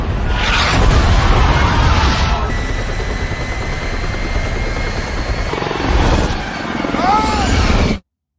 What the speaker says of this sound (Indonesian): terdapat helikopter lain yang oleng karena digandoli oleh zombie-zombie dan akhirnya menabrak helikopter